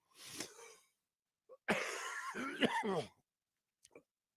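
Throat clearing and a burst of harsh coughing, close and fairly loud, with a short pause, then a longer rough cough-like stretch and a few faint clicks at the end.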